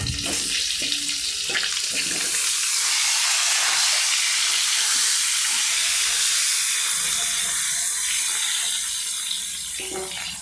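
Potatoes for a Bengali egg curry fry in hot oil with a loud, steady, broadband sizzle that holds throughout at close range.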